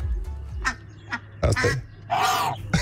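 Indian runner ducks quack in several harsh, raspy bursts at an irregular pace, some close and loud. A person speaks briefly between the calls.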